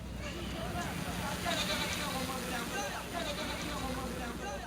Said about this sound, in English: Goats raised for milk and wool.